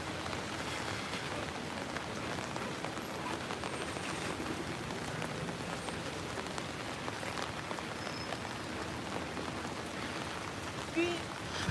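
Rain falling on a cloudy day in St Petersburg, Russia, a steady even hiss of drops on the street with no break, fairly faint and diffuse.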